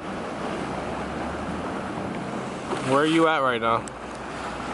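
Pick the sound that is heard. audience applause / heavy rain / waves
waves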